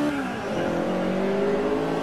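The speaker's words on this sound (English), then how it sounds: "engine swap with the 2 litre Honda Civic engine." VW Beetle with a swapped 2-litre Honda Civic engine in rear-wheel drive, racing in Forza 5 on the Bernese Alps course, its engine revving in a steady, loud, rising whine with no voices over it.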